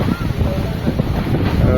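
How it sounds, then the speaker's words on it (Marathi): Strong gusty wind before pre-monsoon rain in a village, buffeting the microphone with a steady loud roar. "बघूया चला जोरदार वारा सुटला आहे"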